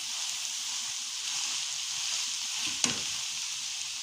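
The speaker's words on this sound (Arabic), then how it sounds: "ابتدي احط عليها اللحمه المفرومه. ده كيلو لحمه مفرومه" Minced meat sizzles steadily in a pan with wilted onions, a close, continuous frying hiss with one brief clatter near the end.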